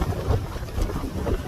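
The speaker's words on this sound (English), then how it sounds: "this wind is just brutal" Strong wind buffets the microphone on the exposed West Bluff Trail at Devils Lake State Park, a steady, low roaring rush with gusty surges and no voices.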